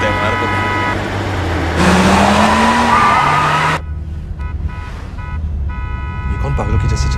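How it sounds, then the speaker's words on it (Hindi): A car driven wildly and skidding: loud engine roar swells into about two seconds of harsh tire screech with rising squealing tones, then drops back to a lower drone, with music-like tones and voices in the background. "ये कौन पागलों की जैसे चला रही गाड़ी?"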